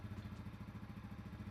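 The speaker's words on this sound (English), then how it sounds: "I'm running the bike in a well-ventilated area for a few minutes." A Yamaha TW200 motorcycle idles while warming its engine oil in a well-ventilated area, a faint, steady low-pitched putter with even pulses and no talk.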